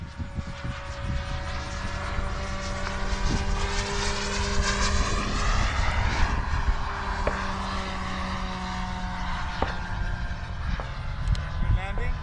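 Small RC propeller airplane, a Delta 40 or Piranha, droning steadily overhead as it comes in to land after running out of gas, with the engine pitch wavering. Voices talk throughout at an outdoor flying field.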